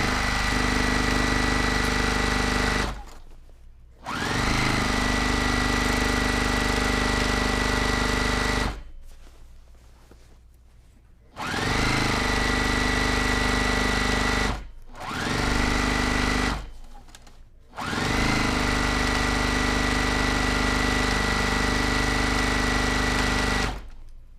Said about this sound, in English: So I'm not going to talk. I'm just going to sew.